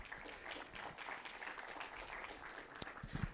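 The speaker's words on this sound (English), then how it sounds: "Another round of applause, please." At the close of an engineering education conference session, the audience gives a round of applause. It is a fairly faint, busy patter of many hands clapping at a distance, with a few louder claps near the end.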